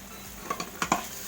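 Garlic dropping into hot oil in a home kitchen pan, a handful of short crackling sizzle bursts over a low steady hiss, close and fairly quiet.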